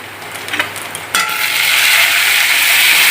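Turmeric, Kashmiri chili powder and cumin powder hitting hot oil in a pan, a few stirring scrapes followed by a sudden loud, sustained sizzle up close.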